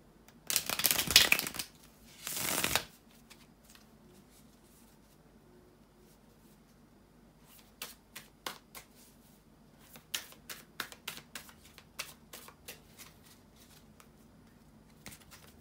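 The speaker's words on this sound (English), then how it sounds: "bear with me a second, guys, to shuffle the tarot cards" Tarot cards shuffled by hand: two loud, dense riffling bursts up close, then after a pause a run of crisp, scattered taps and flicks as the deck is handled, with no talking.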